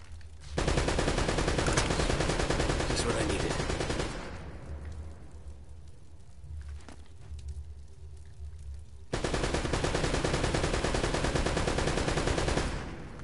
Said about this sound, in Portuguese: O cara tá atirando na parede igual um louco